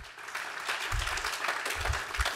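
An audience at a horticulture career night claps in a round of applause, a dense, steady patter of many hands in a room with a few louder thumps.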